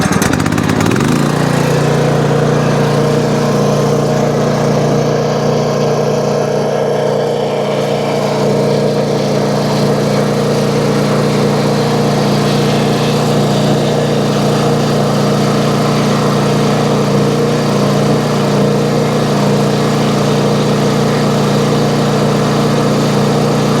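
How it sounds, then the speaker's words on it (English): A Toro zero-turn mower engine runs steadily at full throttle after a brief start-up, a loud continuous drone with a strong low hum and no speech over it. "let's fire it up and see what we get on full throttle."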